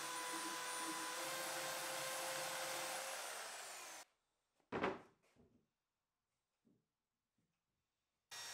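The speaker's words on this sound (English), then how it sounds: "I'm just going to use the belt sander to make small adjustments to the end grain of the legs to get them sitting nicely" A belt sander smooths the end grain of wooden table legs, whirring loudly and steadily for about four seconds before cutting off, followed by a few knocks and handling sounds in the quiet; the motor starts up again right at the end.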